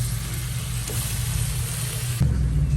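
Pork frying in a pan until browned for Filipino pork adobo, a steady loud sizzle of hot oil that continues throughout, with a brief stir near the end.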